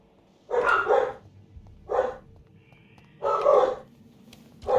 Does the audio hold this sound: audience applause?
no